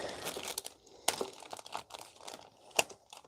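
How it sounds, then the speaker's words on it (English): A regular plastic bag handled near the mic while unpacking G.I. Joe Classified Series figures, giving irregular sharp crinkles and crackles in bursts with brief pauses, one louder crunch near the end. "it's just a regular plastic bag"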